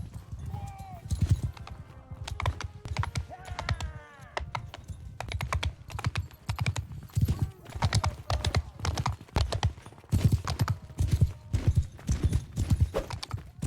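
Horse hooves galloping in the video game Mount and Blade 2 Bannerlord, a steady run of rhythmic clip-clop beats close by for the whole stretch, with a few faint whinnies and someone talking at times over the hoofbeats.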